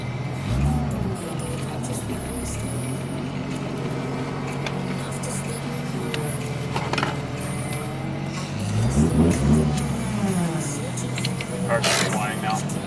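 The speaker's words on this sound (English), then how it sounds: "Car's flying now." A Toyota Supra revs and accelerates hard, its engine rising in pitch as it pulls away, with road and wind noise throughout and a person talking over it.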